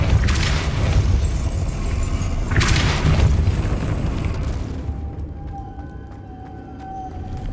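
The impact of a Depulso spell in Hogwarts Legacy: a loud, dense, booming burst with a second surge of force, then a fading rumble under a faint ringing tail.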